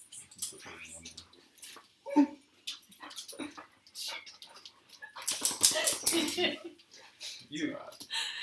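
A puppy whimpers and yips during an indoor mock wedding ceremony, short high whines scattered among people talking and moving nearby, with bursts of louder activity partway through.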